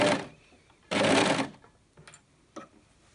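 An overlocker sewing machine stitches a sleeve seam on a ruffled child's dress in two whirring bursts, the second longer, followed by a few faint clicks and handling sounds.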